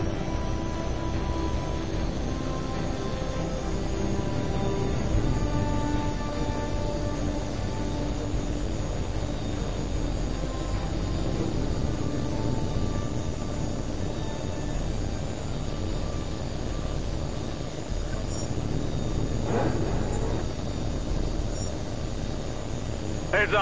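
Fighter jet taking off in the Tom Clancy's HAWX 2 flight game, a steady, loud engine roar and rumble holding level throughout with faint radio chatter beneath.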